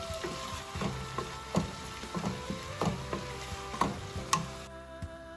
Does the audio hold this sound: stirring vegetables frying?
yes